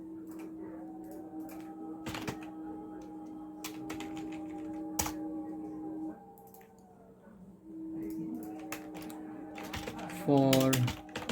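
Clicking keys on a computer keyboard form a steady run of close, light taps beneath a continuous hum, with a short louder burst near the end and a person speaking at points.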